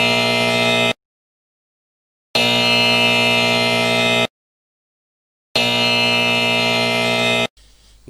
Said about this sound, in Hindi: किसी क्विज प्रोग्राम में या हॉकी, फुटबॉल या इस किस्म के और गेमों में जब बजर बजता है